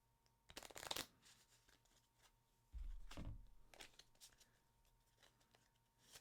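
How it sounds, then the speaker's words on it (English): Playing cards shuffled at a tabletop board game session, two short bursts of quick riffling and flapping, fairly close and quiet, with soft handling noises between them. "Just give these a little shuffle."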